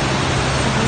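Rushing water of the South Fork King River, a broad, steady roar of fast-flowing current heard close by, loud and unbroken.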